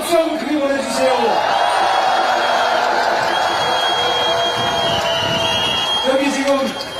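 Crowd at a presidential election rally on the Seoul Station plaza clapping and cheering in a sustained roar, with a speaker's amplified voice heard at the start and end.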